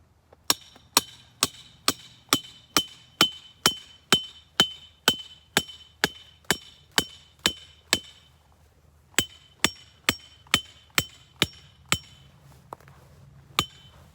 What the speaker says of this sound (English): And then you can just hold it and then hammer it down into the ground.